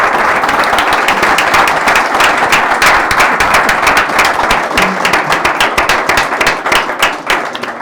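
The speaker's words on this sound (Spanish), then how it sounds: "creo que se ha ganado un muy fuerte aplauso de parte de toda" Loud, sustained audience applause at a talk event, dense rapid clapping from a large crowd that stays strong throughout and thins slightly toward the end.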